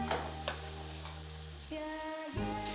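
Pumpkin risotto with butter being stirred in a pan gives a soft, low bubbling and gentle scraping under a steady tonal hum, faint and close, with no voices.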